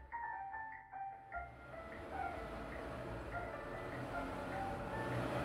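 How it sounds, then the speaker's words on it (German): A truck arriving at night outside the shop in the horror game The Convenience Store: a short, chiming melodic tone plays first, then a low engine rumble builds and swells steadily as the vehicle draws near. "Kommt ein LKW."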